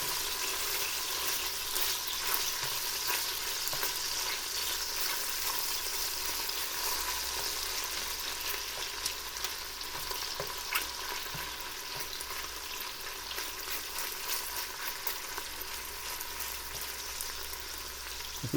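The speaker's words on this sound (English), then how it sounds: "let's go back to our cooking bacon, which you can hear sizzling very nicely." Bacon for a pork stew sizzles in a pan with a steady, close crackling hiss that runs unbroken and fairly soft, with no talking over it.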